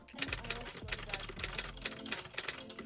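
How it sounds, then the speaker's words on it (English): A long typing effect of fast, steady keystroke clicks runs continuously at moderate level, with a faint low hum underneath. "using a typing sound effect"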